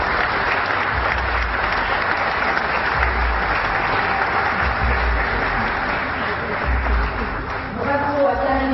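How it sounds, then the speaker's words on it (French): A full room applauds a progression-category winner at a French-language award ceremony, a broad continuous roar of clapping lasting several seconds, with brief voices surfacing near the end. "Donc dans la catégorie progression, je vous demande d'applaudir Monsieur Claire Michaud de LCI."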